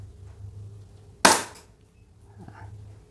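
A Sig Sauer spring airsoft pistol fires a single sharp, loud shot at a glass bottle outdoors, a sudden crack that quickly decays, with no voices.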